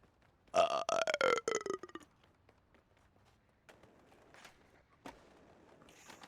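A short, loud burp with a falling pitch, followed by quieter, faint sounds of a skateboarding game.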